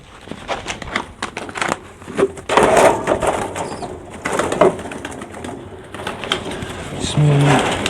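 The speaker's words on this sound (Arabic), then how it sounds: "كل الحمام الصغير ده لسه مفطوم، يعني ده لسه مفطوم." Young weaned meat pigeons, a French squab breed, coo in a loose cluster close by, with bird calls, soft rustling and scuffling over a steady background and some faint voices.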